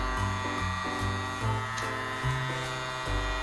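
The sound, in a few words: toy vacuum droid's blower motor running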